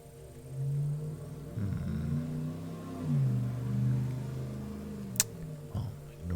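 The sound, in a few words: loud car driving by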